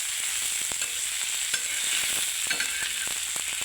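Tomatoes frying in a pan for chutney: a steady bright sizzle with repeated scraping clicks of a spoon stirring, close and continuous, with no voices.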